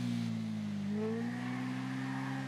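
The engine of a KTM RC8R 1190 motorcycle in GTA 5 drones steadily at a sustained pitch during a wheelie, loud and continuous with a slight rise partway through.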